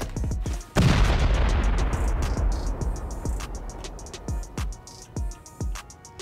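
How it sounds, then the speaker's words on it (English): A shotgun trap fires inside a video game cave, one heavy booming blast followed by a string of sharp gunshot-like bangs and clatters tapering off over several seconds. "Kind of sneaky there with a shotgun trap."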